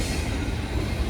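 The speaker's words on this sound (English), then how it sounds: "It's the longest train I've ever seen." A very long freight train loaded with storage containers rolls past on the Appalachian Trail, giving a steady loud rumble of wheels and cars with no gaps or voices.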